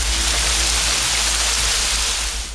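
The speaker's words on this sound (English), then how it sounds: "A massive hailstorm struck the city of Joplin, Missouri, causing extensive damage to homes, businesses, and vehicles." A hailstorm in a city is a dense, continuous hiss and roar of ice striking surfaces, loud and steady throughout with no voices.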